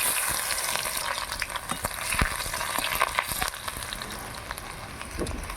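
Chopped onions and panch phoron frying in oil in a kadai, a loud continuous close sizzle with crackling pops and stirring throughout, no voices.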